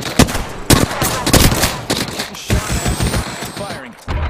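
Bursts of gunfire crack out close and loud in the video game Apex Legends, rapid volleys with brief pauses between, ending in a short lull before one more shot.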